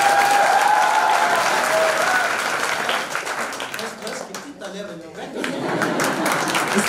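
An audience applauds a theatrical performance steadily and loudly for several seconds, the clapping dipping briefly before swelling again, with a voice faintly audible beneath it.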